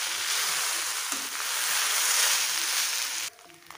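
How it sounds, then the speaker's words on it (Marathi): Cooked rice tossed and stirred in a hot pan for South Indian lemon rice, with turmeric in the mix, giving a steady close sizzling hiss with soft scraping that drops quieter near the end. "आता हे आपल्याला व्यवस्थित मिक्स करून घ्यायचं।"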